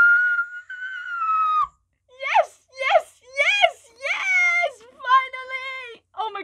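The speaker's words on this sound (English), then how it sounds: "I'm so sorry for screaming, guys." A person lets out a long high-pitched held scream, then a string of shorter excited squealing shrieks in quick bursts with brief gaps, close and loud.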